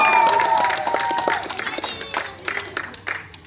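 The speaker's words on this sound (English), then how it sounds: "You guys can clap for him one more time." A crowd at an alligator show bursts into applause and cheering that tapers off into scattered claps, with some voices mixed in.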